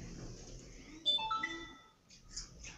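A phone ringtone plays a short run of bright, stepped melodic tones, fairly quiet and brief, over faint background noise.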